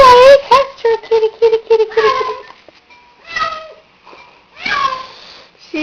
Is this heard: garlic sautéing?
no